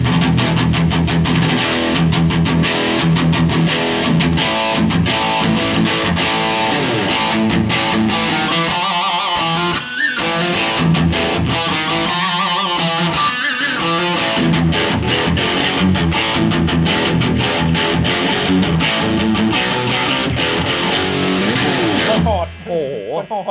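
Distorted electric guitar played through a NUX Amp Academy amp simulator with a loud distortion effect, dense and sustained at high volume for most of the clip before cutting off near the end.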